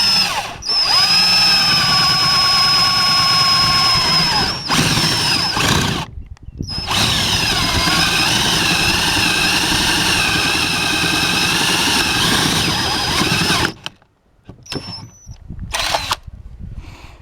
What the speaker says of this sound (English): So the first hole that we need to drill is in the A board